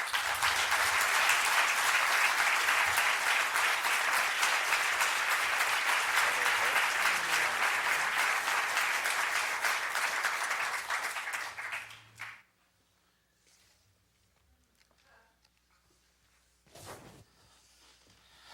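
Audience applause welcoming Christopher Hitchens to a Los Angeles debate, a dense sustained roar of clapping from a large crowd that holds steady for about twelve seconds, then quickly fades, leaving quiet room noise and one brief clatter.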